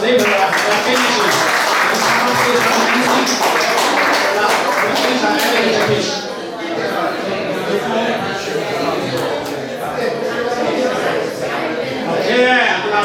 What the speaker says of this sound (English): everybody give them a big, big round of applause